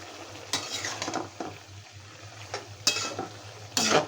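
Vegetable stems fry in a pan for a curry with bata fish, sizzling softly while a spatula scrapes and clatters in several sharp bursts of stirring, close and without talk.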